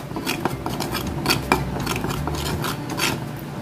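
A spoon scrapes and clinks against a pan while stirring a spicy vadi rassa curry mixture seasoned with Kashmiri red chili powder, in a steady rhythm of close metallic taps and rasps.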